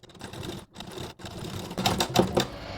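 Sewing machine stitching the shoulder seam of a blouse, a quiet rapid mechanical chatter in short runs broken by two brief stops, growing slightly louder toward the end.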